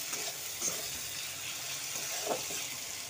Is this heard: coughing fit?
no